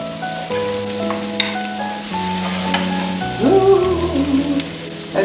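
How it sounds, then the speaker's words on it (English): Onion and mushrooms fry in a pan, giving a steady loud sizzle while being stirred, with scraping stirs rising near the end. Soft music plays underneath. "Just stir it around until the onion is slightly translucent, slightly see-through"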